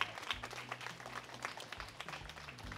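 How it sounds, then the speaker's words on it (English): A church congregation claps in praise during a service, a quiet, uneven patter of hands with low murmuring voices and soft organ-like tones underneath. "give God a hand clap of praise in this place"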